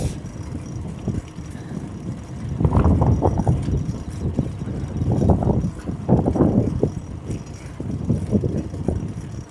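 Wind gusting across the microphone while cycling through a quiet town in Japan, with low rumbling bursts in several waves that rise and fall near the mic, no talk.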